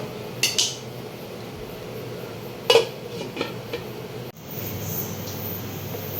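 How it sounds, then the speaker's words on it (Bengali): A metal lid clatters onto a pot of Bengali khichuri, with a few sharp clanks and utensil knocks over a low background hum, followed by a steady muffled hiss once the pot is covered. "এবার এটা আমরা ঢেকে দেবো"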